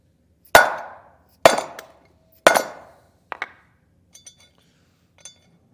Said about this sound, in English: we'll hit that with the hammer